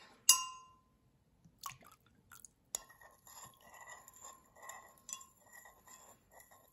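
A utensil stirs scent into melted candle wax in a container, giving a sharp clink followed by light, irregular scraping and tapping, quiet and close, with no talk.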